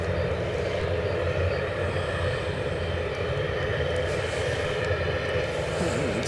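British Airways Embraer 190 from London City arriving at Edinburgh airport, a loud continuous jet roar with a broad rumbling drone that holds steady throughout.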